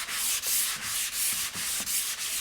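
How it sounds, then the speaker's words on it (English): A sanding block rubs along the edge of a wooden door frame in steady back-and-forth strokes, about six close, even passes of dry scratchy friction with no talking. "So I'm just going to get my sanding block and just clean up that edge."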